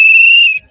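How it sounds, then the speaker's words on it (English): A single sharp, shrill whistle blast at a football halftime show, held steadily for about half a second, loud and close, then cut off. "Go ahead, blow the whistle. Blow it."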